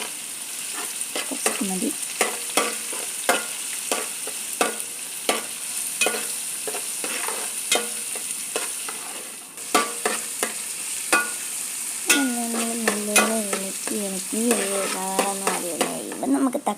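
Chopped onions frying in a pan for tuna curry, with crisp sizzling under repeated scraping stirs of a spoon against the pan, louder clattering stirs near the end; a voice briefly speaks.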